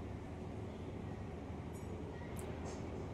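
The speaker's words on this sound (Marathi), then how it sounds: "आता इकडनं मेट्रोने स्टेशन सोडलं आहे" Mumbai Aqua Line 3 underground metro train pulling out of a station, a steady low rumble with faint high squeals from the wheels, heard from inside the carriage at low level, no talking.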